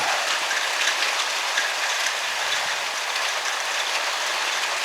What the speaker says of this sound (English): You probably can tell it's raining.